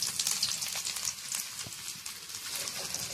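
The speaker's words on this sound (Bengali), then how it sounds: "এবারে এর মধ্যে আদাগুলো আগে দেব, যেহেতু ভাজা আদা দিচ্ছি," Ginger pieces frying in hot oil for mango pickle, giving a steady, dense sizzle that holds evenly throughout with light crackles, close and fairly quiet, with no talking.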